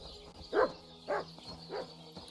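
A dog in the medieval video game Kingdom Come Deliverance 2 gives three distinct barks spaced about half a second apart, moderately close, over a quiet game ambience.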